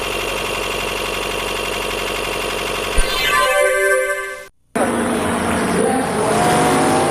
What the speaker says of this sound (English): Look, the car is still running.